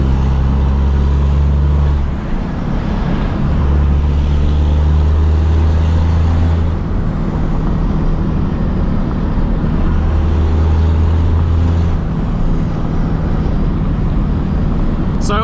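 A 2001 Dodge Ram 2500 with a Cummins diesel and six-speed manual drives along, its loud, deep engine drone steady throughout with a few pitch shifts as it changes gears, heard from inside the cab.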